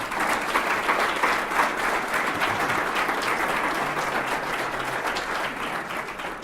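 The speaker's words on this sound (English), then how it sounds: "If you can give her a round of applause for me" An audience at a head coach's press conference gives a sustained round of applause, a dense and even crackle of many hands clapping at close range, steady throughout with no speech over it.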